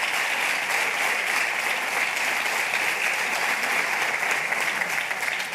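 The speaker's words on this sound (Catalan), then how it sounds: "un fort aplaudiment a tots els que doneu la passa per donar la cara per lo millor de nosaltres" A crowd at a political party event in Ibiza presenting candidate lists breaks into loud, sustained applause, with even, continuous clapping throughout and no speech over it.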